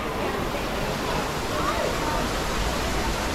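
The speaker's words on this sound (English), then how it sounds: "Going under the waterfall here." Steady, broad rush of a waterfall spilling into a resort pool at the Grand Floridian, heard up close as a continuous dense roar with faint voices mixed in.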